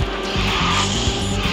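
A race car skids and drifts in Garena Speed Drifters, its loud tire squeal and engine tone running nonstop through a short burst of arcade racing, with no one talking.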